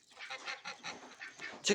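Three farm geese honk in a run of repeated nasal calls, close by and fairly loud, with a sharper, louder honk at the very end.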